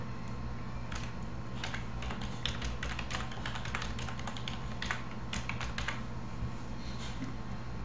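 Steady clicking of keys being typed on a computer keyboard in uneven bursts, moderately close and fairly quiet, alone over a low constant hum.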